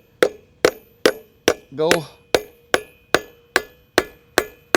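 An anchor bolt is hammered into a concrete foundation with about ten sharp, evenly paced metallic blows, loud and close, while a voice briefly speaks between strikes.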